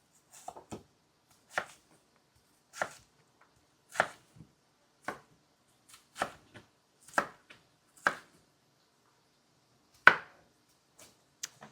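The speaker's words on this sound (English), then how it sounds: "And I'm going to chop our onion." An onion being chopped on a board, a series of about a dozen crisp knife strikes at an uneven, unhurried pace, close and clear against quiet with no speech.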